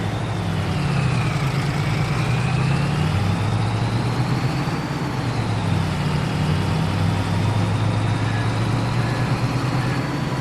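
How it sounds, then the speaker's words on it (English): Truck engine idling steadily in Farming Simulator 22, a low continuous rumble with a faint whine above, unchanging and close throughout. "I do like this truck."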